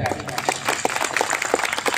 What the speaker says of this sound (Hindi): इसके लिए हम सभी एक बार जोरदार तालियां बजाएं।